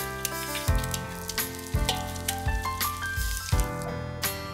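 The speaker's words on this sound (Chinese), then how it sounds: "接下来我们煎荷包蛋。" A fried egg sizzling in oil in a pan, cooked until firm for a stir-fry with luffa, crackles steadily up close beneath background music.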